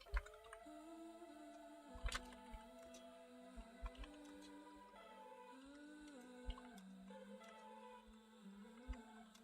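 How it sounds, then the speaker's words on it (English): Soft clicking of keys tapped in irregular bursts, quiet and close, over a steady low hum with faint musical tones in the background. "Hope I wasn't typing too loud."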